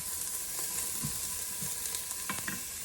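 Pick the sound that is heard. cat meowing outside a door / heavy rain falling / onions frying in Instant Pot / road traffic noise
onions frying in Instant Pot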